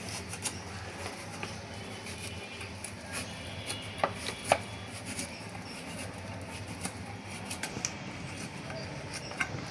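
A knife cuts papaya into long pieces on a board, faint soft chops and taps at irregular intervals under a quiet background hiss, with a couple of sharper knocks midway.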